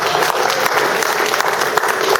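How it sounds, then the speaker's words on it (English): An audience at a holiday business and tech community mixer gives a round of applause for the exhibitors and caterers, a brief, dense burst of clapping from a crowd in an indoor venue. "if we can give a round of applause to all the people that are here, all the exhibitors"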